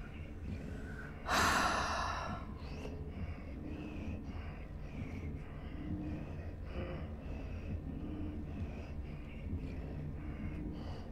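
A creature in the video game Little Nightmares snorts and breathes heavily while tearing at a carcass, a sharp loud snort early on followed by quieter, ragged breaths over a low rumbling backdrop.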